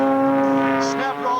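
Gene Soucy's aerobatic airplane rolls for takeoff at a 1996 air show, a loud steady droning engine and propeller tone with strong harmonics, sustained and close, under a faint public-address voice.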